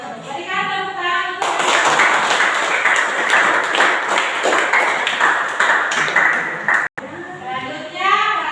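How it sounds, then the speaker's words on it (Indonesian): A school class claps together in a long, lively round of many hands, with a teacher's voice heard before the clapping begins and again after it stops abruptly. "Oke, berikan tepuk tangan."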